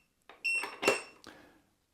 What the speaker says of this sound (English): You pull this out and you can hear it beeping.